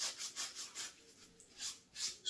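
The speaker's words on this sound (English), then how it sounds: "sanding away at these things" Soft rhythmic rasping strokes of hand sanding on small wooden ornaments, repeated back and forth at close range with no voices.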